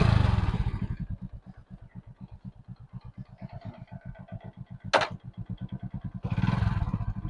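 A motorcycle engine idles close by with a rapid, even putter, revving louder at the start and end, with a sharp clank in the middle.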